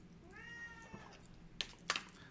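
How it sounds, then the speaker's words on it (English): A house cat wanting to go out lets out a single drawn-out meow, quiet and close, followed a moment later by two sharp clicks or knocks in a hushed room. "The cat wants to go out."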